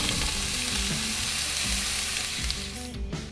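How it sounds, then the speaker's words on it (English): Onions sizzling in olive oil in a hot pan, a steady dense crackling hiss that stays loud and even throughout, with faint stirring scrapes underneath and no talking. "In a hot pan, I'm going to put a little bit of olive oil and then my onions."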